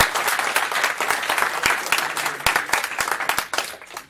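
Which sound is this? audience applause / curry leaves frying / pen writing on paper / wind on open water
audience applause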